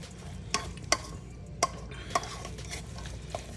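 Fresh herbs being stirred into a couscous salad, heard as a handful of sharp utensil scrapes and taps against the bowl over a low, steady background, with no talking.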